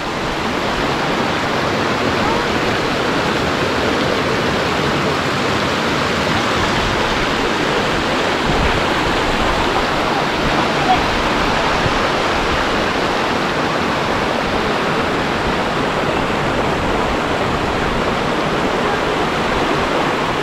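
Neelum River rushing near Sharda in Azad Kashmir, a steady, dense roar of fast water that holds constant and close for the whole stretch with no talk over it.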